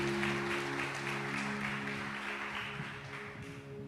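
A church congregation claps for the Lord, a soft, even patter of many hands with a steady low hum from amplified music beneath it, no speech.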